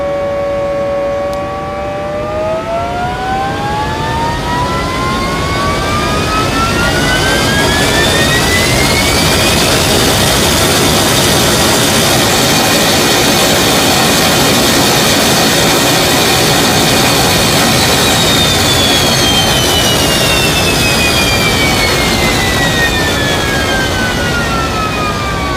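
A procedurally synthesized jet engine, with turbine whine layered over a fire-model thrust roar, sounds loud and steady throughout, its whining tones sweeping upward and later sliding back down.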